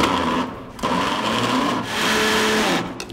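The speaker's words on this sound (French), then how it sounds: "Le tout dans un mixeur. Maintenant, on mixe." A kitchen blender whirs loudly as it purées ricotta, cooked spinach, parmesan and egg yolk into a filling, running in close, steady bursts with brief dips in motor pitch.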